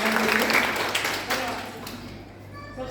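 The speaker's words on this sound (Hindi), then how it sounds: "एक बार जोरदार तालियां।" Clapping from a gathering welcoming a speaker, loud at first then thinning out over a few seconds, with voices talking over it.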